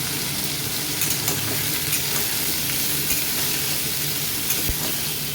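Chunks of onion and potato fry together in a pan, making a constant, dense sizzling hiss with a few soft clicks from stirring, close and alone.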